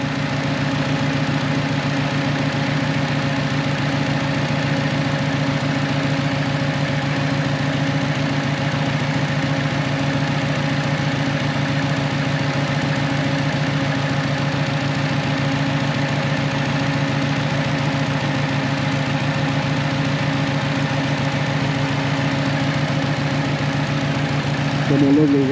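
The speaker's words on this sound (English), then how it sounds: "She just doesn't like to idle at a light with the AC on." Car engine idling at a standstill with the air conditioning and cooling fans running: a steady, loud, unbroken hum and drone with constant tonal whine that holds level throughout, with no talk.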